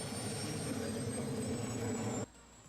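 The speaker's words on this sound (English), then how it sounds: "That is the most powerful RC airplane ever made, with the thrust from the 4 JetCat P300 turbine engines." A giant 149-kilogram RC Concorde model powered by four JetCat P300 turbine engines roars with a steady, loud jet whine and rumble, cutting off abruptly near the end.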